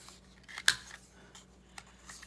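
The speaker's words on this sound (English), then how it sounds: "real quick snip these. That's a great little corner rounder." A small corner rounder snips the corner off a paper card, producing one crisp click-snip followed by a few fainter snips, close and quiet.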